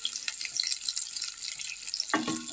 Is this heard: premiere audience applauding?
no